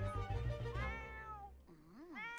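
A cat meows in a farm-life video game, several drawn-out, rising and falling mews close and clear, with game background sounds underneath.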